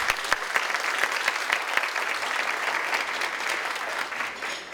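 Sustained applause from an audience at a Beautillion Militaire awards ceremony, steady and fairly loud throughout with many overlapping claps and no pause.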